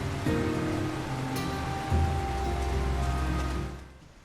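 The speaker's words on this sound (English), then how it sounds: "They start off right off the bat with the raining stuff, huh?" Steady rain in the fantasy action game LOTR: War in the North, a dense continuous wash of falling water that holds at an even level for several seconds before easing off near the end, with no voices.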